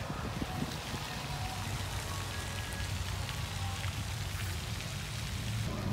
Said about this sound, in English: It's cold and still rainy.